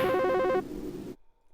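A telephone rings in a short burst of rapid electronic trilling that lasts about half a second, followed by a brief fading tail and silence.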